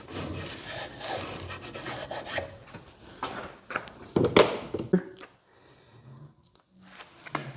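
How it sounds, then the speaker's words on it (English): A cloth wiping the surface of a 12-inch Kobalt miter saw with rubbing alcohol, giving close, uneven rubbing and rasping strokes with a sharper scrape midway, then quieter handling sounds. "Clean this with a little rubbing alcohol."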